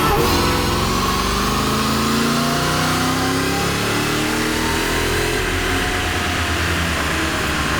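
A Mercedes E55 AMG wagon, running rich, pulls hard in fourth gear, its engine roaring loud and close with a rising whine climbing steadily throughout, no voices.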